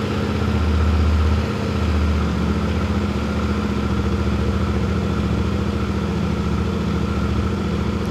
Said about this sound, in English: if I turn the engine on